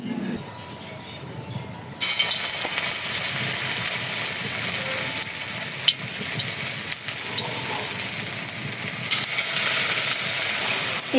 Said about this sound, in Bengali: ভেজে নেব তেলে।